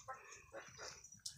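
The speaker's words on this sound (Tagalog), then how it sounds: "Ayan ho ang aming aso na si Makoy." A dog barks outdoors in a few short, close bursts, with light background noise between them.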